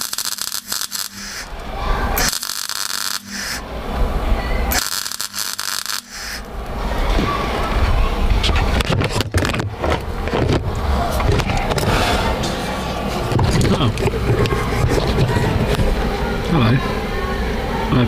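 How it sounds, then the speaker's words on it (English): A welder tack welding steel T-section bars under a car's boot floor: dense crackling and hissing bursts with short gaps early on, then continuous rough noise, with some talk mixed in. "I'm going to fire up the welder and we're going to tack them in."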